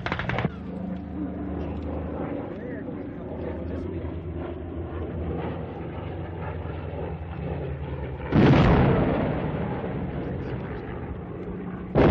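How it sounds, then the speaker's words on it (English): High-explosive airstrike bombs burst over a continuous rumbling battle din, with one sharp, loud blast and a decaying roar near the end. "this is the first wave of the airstrike. They're using only high explosives"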